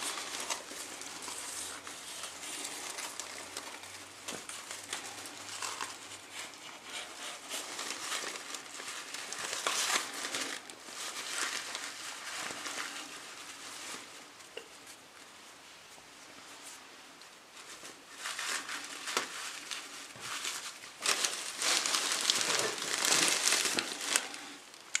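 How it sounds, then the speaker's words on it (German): A star made of dried hay is pulled apart by hand, giving faint, close crinkling and rustling that swells and eases in irregular bursts. "Und so super kann man den auseinanderziehen."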